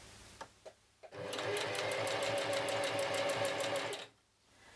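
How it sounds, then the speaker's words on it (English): A sewing machine stitches a ruffle onto the hem of a lolita dress. A few soft clicks come first, then one steady, rapid run of stitching lasting about three seconds before it stops. "make sure not to sew on top of the ruffles"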